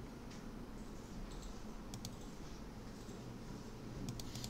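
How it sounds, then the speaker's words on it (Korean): Computer keyboard keys, the arrow keys, are pressed during editing work, giving a few light, sparse clicks over a faint steady background hum with no speech. "키보드 화살표로 적당히 조절하시면 되고요"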